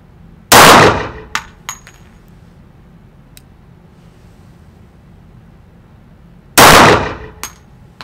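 Two loud, sharp pistol shots from a Schmeisser Hugo ring out about six seconds apart. Each crack has a brief decaying tail followed by small metallic clinks, with quiet background between them.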